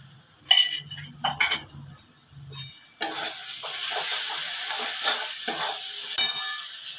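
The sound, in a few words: spices with cumin powder frying in a pan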